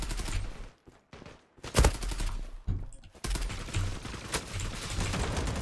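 Bursts of automatic gunfire from the online shooter game Zula, rapid rattling volleys broken by short gaps and a few loud single shots, close and dense throughout with no talking.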